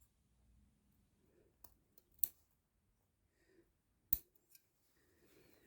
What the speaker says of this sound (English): You've got to cut notches at the end of each shoulder seam where it joins the back of the neck.